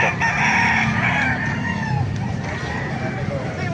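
A rooster crows loudly nearby at a chicken market in Calumpit, Bulacan, Philippines, followed by clucking and other fowl amid busy background chatter and passing traffic.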